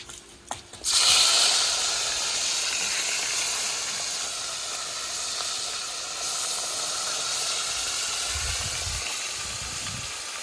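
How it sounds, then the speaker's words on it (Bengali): Chital fish pieces fry in hot oil, a loud, steady hissing sizzle that starts abruptly after a couple of brief knocks and continues without a break, with faint low thumps near the end. "আর এখানে যে বাকি মাছগুলো আছে সেগুলো এখন ভেজে নেব।"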